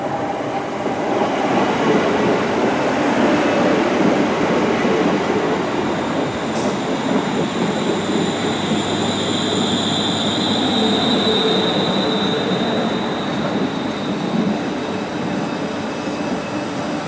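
A London Northwestern Railway train arrives at a station with a loud, close rumble of wheels on rails, and high brake squeals ring out over it as it slows. No one speaks.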